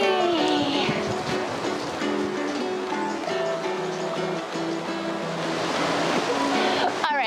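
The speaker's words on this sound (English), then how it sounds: "I'm hearing water very close by, which is nice." Close by, a stream rushes and splashes steadily in a continuous flowing roar in British Columbia woods, with a voice faintly talking over it.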